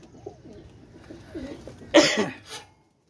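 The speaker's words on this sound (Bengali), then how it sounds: "বাম সাইডটা হচ্ছে পাকিস্তানি ডাবওয়ালা কবুতর" Pakistani pigeons of a crested, shell-backed breed give soft, low coos close by, followed by a louder burst of cooing and wing or body rustle near the end, then silence.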